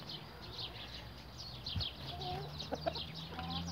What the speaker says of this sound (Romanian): Acolo avem o găină nervoasă ce râșche